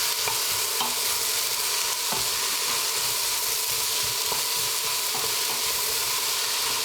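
Chopped vegetables sweat in a hot pan on the highest setting for butternut and celery soup, a steady loud sizzle with occasional soft stirring clicks, continuous throughout.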